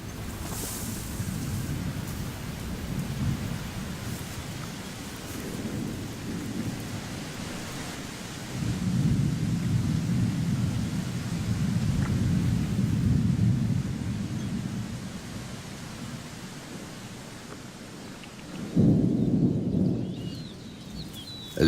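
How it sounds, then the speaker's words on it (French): Heavy rain and rolling thunder in the African wild where cheetahs hunt, a dense continuous roar with deep rumbles swelling and fading several times over about twenty seconds, no voices. "La pluie et le vent sont des atouts pour la chasse."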